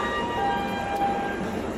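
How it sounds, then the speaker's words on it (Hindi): Trains at a large railway station in Ahmedabad (Kalupur), a steady rumbling hum with sustained tonal whines, as if a train is idling or rolling nearby, with no voices. "ये पूरा रेलवे स्टेशन है"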